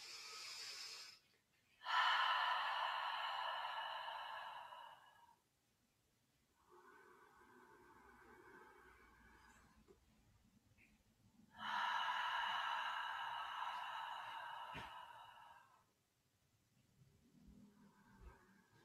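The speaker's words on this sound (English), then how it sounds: "inhale through the nose, exhale out through the mouth, and HA, ha, breath as you exhale" Slow meditative yoga breathing, with a long soft nasal inhale followed by a strong airy 'HA' exhale out through the mouth, repeated twice, close and clear against a quiet room with no talking.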